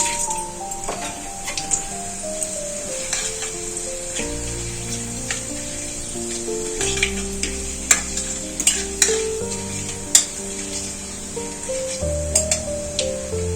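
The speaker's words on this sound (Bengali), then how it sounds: "এই ফোড়নগুলো হালকা আঁচে ভেজে নেব" Panch phoron, half a dried red chili and a bay leaf fry in mustard oil in a kadai over low heat, giving a continuous close sizzle with sharp crackles and spits and the clink of stirring.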